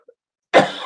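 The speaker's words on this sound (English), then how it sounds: "I'm getting a terrible cough here" A single harsh cough bursts out close and loud after a brief near-silence, from someone speaking who has a bad cough.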